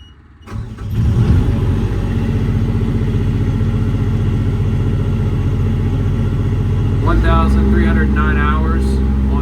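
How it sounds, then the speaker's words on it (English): An EnPak power unit on a 2016 International 4400 work truck cranks and catches, settling into a loud, steady, close diesel drone that keeps running throughout, with someone talking over it toward the end. "So you press once, and you press it again, it'll crank on."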